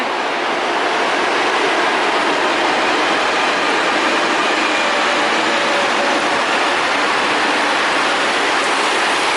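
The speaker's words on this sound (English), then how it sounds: "What is this train?" A train rushes past close by in Genoa, a loud continuous roar of wheels and rails that holds steady for several seconds.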